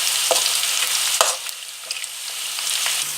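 Gram flour boondi drops fry in hot oil for motichoor laddu, a steady close hiss of sizzling with occasional sharper pops and spatters, continuous and without voices.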